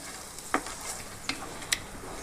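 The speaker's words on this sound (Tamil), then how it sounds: "இப்போ நல்லா மிக்ஸ் பண்ணிக்கங்க" Chana masala paste sizzles softly in a pan while a spoon stirs it, giving three or four sharp scraping clicks over a faint steady frying hiss.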